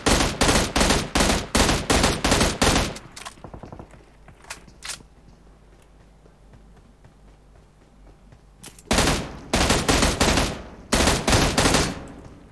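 Rapid automatic gunfire in the mobile battle royale game PUBG Mobile, loud bursts of shots in two long volleys separated by a quieter stretch with a few isolated shots.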